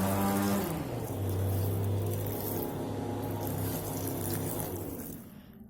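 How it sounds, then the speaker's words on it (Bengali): Water poured from a bucket around the base of newly planted trees, a continuous splashing gush with a ringing, resonant tone, steady throughout and fading near the end. "তো এখানে চারিদিকে ভালোভাবে জল দিয়ে দিচ্ছি, বালতি থেকে নিচ্ছি"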